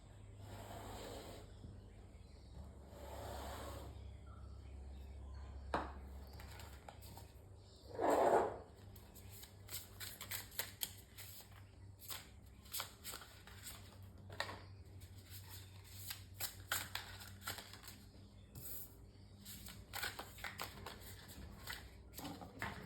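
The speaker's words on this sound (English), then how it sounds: "Shuffling up sometimes." Tarot cards are shuffled by hand in close, soft rustling and riffling bursts, with quiet pauses early on and a denser run of rapid card flicks later, with no voices.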